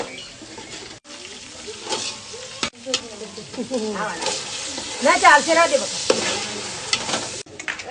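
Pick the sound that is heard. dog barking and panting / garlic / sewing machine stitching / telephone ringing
garlic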